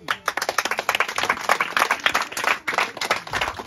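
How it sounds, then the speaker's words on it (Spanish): Audience applause at a Tecuanis dance festivity in Chistiopa, a steady wash of many hands clapping close by for the whole stretch, dense and lively with no talk over it. "Para ellos, un aplauso."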